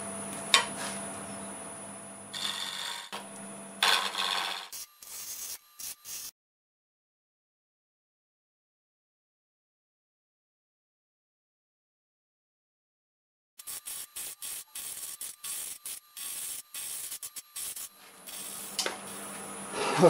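A wood lathe spins a segmented wooden sphere at 930 RPM, with short bursts of rubbing, rasping tool contact on the wood. A long stretch of silence splits the clip, then the choppy scraping returns, close and moderately loud.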